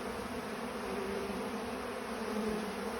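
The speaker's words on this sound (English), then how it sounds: "The bees on the ground." Bees buzzing low on the ground beside a hive, a steady, dense hum of many insects close by with no talking.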